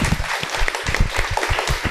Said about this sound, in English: let's give Anna a round of applause